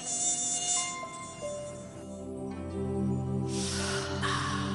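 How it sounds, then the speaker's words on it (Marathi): A thin, high-pitched mosquito whine hovers close by, rising and falling in pitch as it drifts, with no voices present. "किती डास आहेत ना यांच्याकडे"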